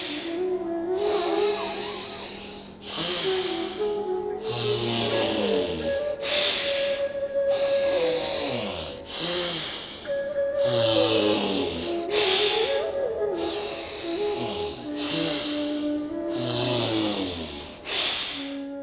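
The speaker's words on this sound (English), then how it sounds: "Close the left nostril and exhale through the right." Alternate-nostril pranayama breathing, with long forceful nasal exhales and inhales repeating in a steady rhythm, close and loud, over background music with sustained tones.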